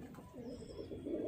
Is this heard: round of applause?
no